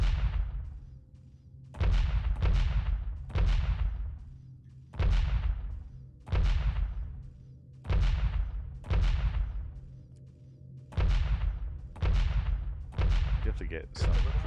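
Slow turret cannon shots ring out in the Homeworld video mode of Pinball FX, about ten loud, evenly spaced booms, each with a long decaying tail.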